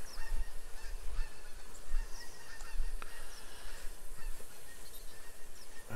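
Geese honking repeatedly in the hunting game The Hunter Classic, a steady run of game-world calls over outdoor ambience, moderately loud with no talk.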